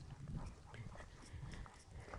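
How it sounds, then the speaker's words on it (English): A dog panting while walking along a trail, quick rhythmic breaths close by with soft footsteps and movement, faint and low, with no talking. "You can probably hear my dog panting and me as we walk along this trail."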